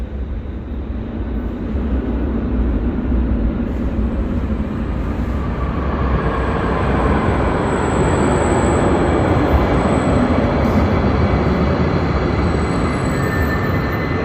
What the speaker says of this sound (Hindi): इस साइड से आई, ये उधर गई, और वो वाली ट्रेन आ रही है